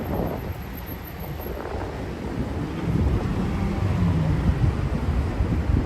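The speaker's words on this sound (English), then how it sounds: "Now the wind is picking up." Wind gusting outdoors on a New York street on the Upper West Side near Broadway, a steady low rumble buffeting the microphone that grows louder and stronger midway through, with no talk.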